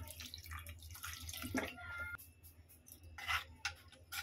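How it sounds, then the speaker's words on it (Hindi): Water poured into a cooking pot of masoor and urad dal lentils with ginger-garlic paste in a home kitchen, heard as close, intermittent splashing bursts with a brief louder gush midway and soft clatter. "ज़रूरत के हिसाब से पानी ऐड कर लेंगे दाल को गलाने के लिए"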